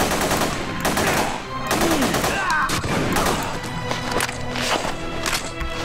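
Gunfire in The Punisher game crackles in repeated bursts and single shots at close range, mixed with footsteps and busy game action throughout.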